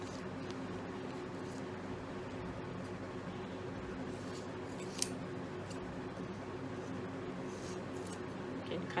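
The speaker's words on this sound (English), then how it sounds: "Cut them into 4 pieces," Scissors snip steadily through dried paper soap sheets, cutting them into pieces. The soft, repeated cuts are close and faint over a constant background hiss, with one sharper click midway.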